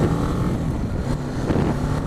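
A motorcycle engine runs steadily during a short ride around the block, a continuous low droning hum mixed with wind rush, with no talk over it.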